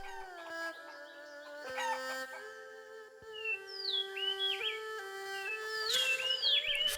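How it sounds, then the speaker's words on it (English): Chickens clucking and a rooster call inside the video game Shenmue 3, several birds squawking over a steady background music bed, moderately close and scattered in irregular bursts. "Try catching 10 of those chickens"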